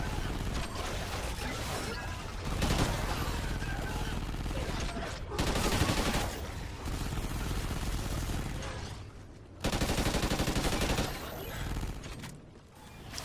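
Sustained assault rifle gunfire in a video game, dense rapid bursts nearly continuous across the clip with brief pauses between volleys, loud and close.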